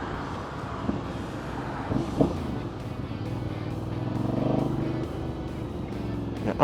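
Road traffic with cars and heavy trucks rumbles past a moving car, with a low engine drone swelling and fading and a few brief knocks, steady and fairly close, no talking.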